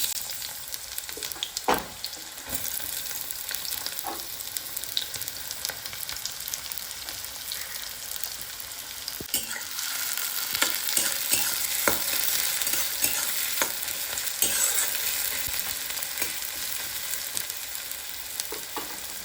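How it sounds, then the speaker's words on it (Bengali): Onions fry in a pan with a continuous sizzle and frequent light scrapes and taps from stirring, and the frying swells louder halfway through. "একটু পেঁয়াজগুলো ভেজে নিই ততক্ষণ"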